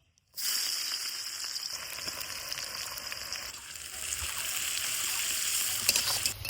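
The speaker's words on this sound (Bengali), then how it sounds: "ওই তেলের মধ্যে দিয়ে দিব হচ্ছে 2টা তেজপাতা, আর দিয়ে দিব পেঁয়াজ কুচি" Two bay leaves and chopped onion dropped into hot oil burst into a loud, sustained sizzle that continues close and unbroken with no talking.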